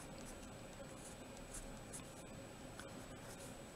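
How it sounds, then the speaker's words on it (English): A green watercolor pencil rubs and scratches across paper while recoloring a leaf, a soft, steady close-up scribbling texture with faint background hiss. "I'm going to come in with my 707 green and redoing that leaf"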